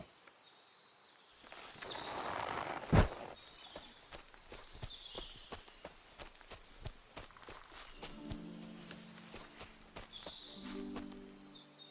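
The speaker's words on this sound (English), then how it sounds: "A beautiful horse. Black as charcoal." A horse walks through woodland in Kingdom Come: Deliverance II, its hooves clip-clopping in a steady, moderately loud rhythm among rustling ambience, with a sharp thud early on and no talking.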